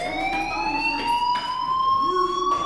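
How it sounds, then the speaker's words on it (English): A fire alarm rings in the video game Life Is Strange, a loud, steady electronic tone with harmonic overtones that holds throughout, joined by brief louder pulses. "do you hear that fire alarm?"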